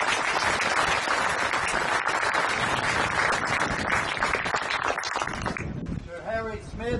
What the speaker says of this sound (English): So I would like to give them a round of applause.